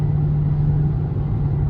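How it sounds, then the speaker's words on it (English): A Scat Pack car running in track mode at night gives a steady, loud engine drone with a sustained low whine under throttle, with no talking. "the Scatpack feels like it has a whine when you float the gas all the way down"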